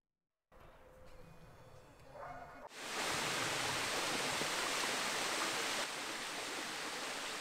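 Sa Spendula waterfall near Guspini in Sardinia, a broad steady roar of rushing water that swells to full loudness after a quieter opening and holds as a continuous wash.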